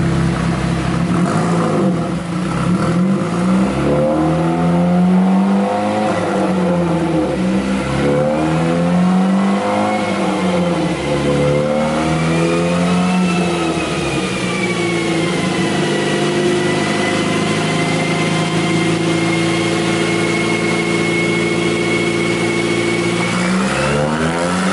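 A turbocharged Mazda 3 running E85 fuel on a dyno pull revs continuously, loud and close, its engine note climbing and dipping through the pull with a rising whine over steady engine roar.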